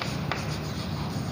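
Marker or chalk strokes scratching across a classroom board as numbers are written, a steady soft scraping rubbing sound at moderate level with no talking.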